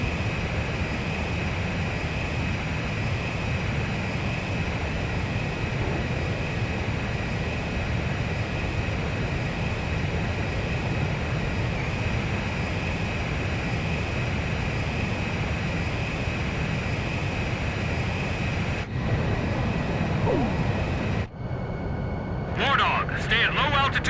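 In the Ace Combat 5 flight game, a jet engine roars continuously during aerial refueling, loud and steady, with radio voices talking over it. Near the end the roar briefly cuts out and shifts.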